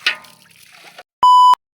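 Water sloshes and pours for about a second while a cooking pot is washed outdoors at a farm, with an irregular splashing texture, then a short, loud electronic beep follows after a brief gap.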